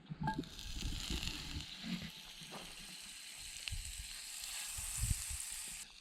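A whole gutted fish fillet fries in butter in a pan at a forest campsite, giving a steady hissing sizzle with soft crackles and occasional low bumps and scrapes, close by.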